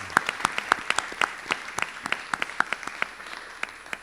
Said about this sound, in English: Can we please hear a great round of applause for this leaders?